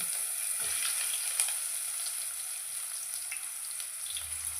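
Chopped onion frying with cumin seeds in hot oil, a steady close sizzle with faint crackles and soft stirring, no talking.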